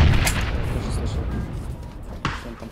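In a PUBG match, a deep grenade blast booms at the start, followed by a sharp gunshot crack near the end, with low rumbling game noise in between.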